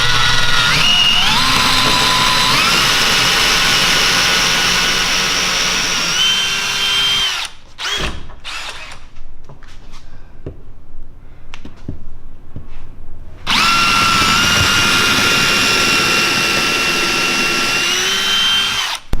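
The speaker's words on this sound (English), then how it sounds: "And now we're ready to drill our pilot holes for the top wall bracket." A power drill boring pilot holes for a Murphy rack's top wall bracket, a loud whining run that stops abruptly, a short gap of bumps and handling, then a second long burst.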